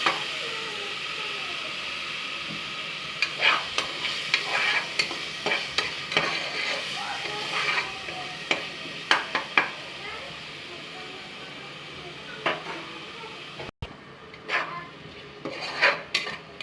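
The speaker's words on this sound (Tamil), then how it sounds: "இதுவும் பச்சை வாசனை போகிற அளவுக்கு நல்லா வதக்கி எடுத்துக்கோங்க" Ginger garlic paste sautéed on low flame for a mutton gravy, a gentle background sizzle with repeated clinks and scrapes of a spoon against the pan at an uneven stirring rhythm, close and moderately loud.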